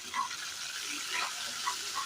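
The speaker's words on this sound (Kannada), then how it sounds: "ಆಮೇಲೆ ಒಂದು ಒಗ್ಗರಣೆ ಕೊಡಿ" Tempering spices for curd rice sizzle in a hot pan, a steady soft frying hiss with a few faint pops, close and alone.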